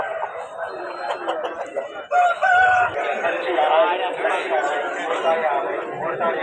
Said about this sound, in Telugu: కోడి అండి